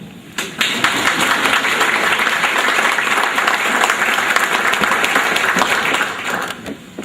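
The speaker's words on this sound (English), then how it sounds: "Thank you for the applause." Dense, loud applause from a large audience fills a change of command ceremony for U.S. Customs and Border Protection, sustained and steady before tapering slightly at the end, with no voices over it.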